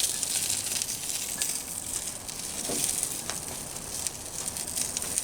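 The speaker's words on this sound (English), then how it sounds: "That butter seems to flare up the fire and create a little bit of smoke." Butter hitting the fire under a spatchcock turkey on a Pit Barrel Cooker gives a steady, close, hissing sizzle with crackling flare-ups and no talk.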